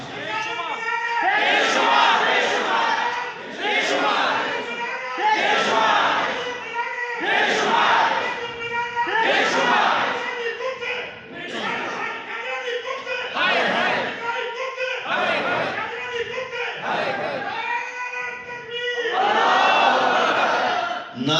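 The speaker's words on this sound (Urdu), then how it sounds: "نعرے کا جواب بھی نعرے کے ساتھ دیا کرو." Crowd at a Khatm-e-Nabuwat religious conference chanting slogans in unison in response to a speaker, loud rhythmic group shouts repeating steadily throughout.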